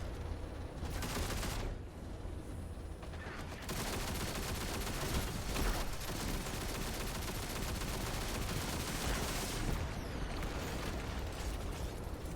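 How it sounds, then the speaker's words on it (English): Sustained machine gun fire in a Destiny-style lost sector, a dense stream of rapid shots with brief pauses near the start and end, loud and steady, with occasional bangs mixed in. "And then we'll just go machine gun here for a little bit."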